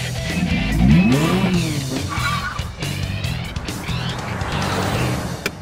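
A BMW M2 sports car drives by with its engine note sweeping up and down in pitch, loud and close, a brief tyre-edged surge near the start.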